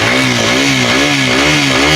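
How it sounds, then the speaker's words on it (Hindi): A 125cc motorcycle engine runs just after starting, close and loud, with a steady throbbing idle whose pitch rises and falls slightly in small blips of throttle. "गाड़ी स्टार्ट हो गई है"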